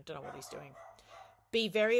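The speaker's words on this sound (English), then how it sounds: "Apologies for the dog barking in the background" A dog barks in the background, sharp repeated yaps near the end, while a person lectures over it.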